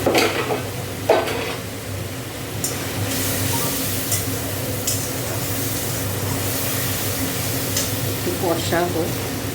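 Turmeric and spices being stirred and fried in a hot pan for a home-cooked Bengali dish, a steady sizzle with scraping stir strokes throughout, fairly close and continuous.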